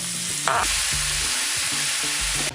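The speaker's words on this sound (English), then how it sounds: "Now we're gonna add our mushrooms to our nice oily skillet." Mushrooms frying in an oily skillet give a loud, steady sizzle throughout, with a brief stirring scrape early on and low rhythmic thuds beneath.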